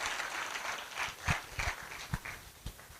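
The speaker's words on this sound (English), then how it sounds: "a hand of applause" Scattered clapping at a university faculty of agriculture lecture and awards ceremony, fairly quiet and thin, with a few louder, sharper claps and thumps standing out irregularly.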